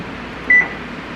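An oven control panel gives a single short, clear electronic beep while the oven is being set to preheat, heard close over a low steady room hum.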